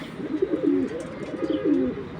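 Imported Belgian pigeons from 2016 give close, clear rolling coos, two throaty phrases in a row over a faint background hum.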